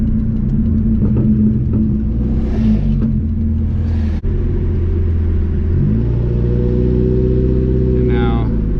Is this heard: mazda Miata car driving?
yes